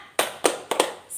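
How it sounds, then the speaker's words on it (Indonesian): A group in a family-finance workshop session gives a short rhythmic cheer clap: four sharp bursts of claps in an uneven pattern, fairly close and moderately loud, with no talk over it. "Coba kita tepuk semangat dulu, Bu."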